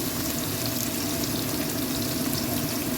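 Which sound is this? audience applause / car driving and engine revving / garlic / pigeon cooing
garlic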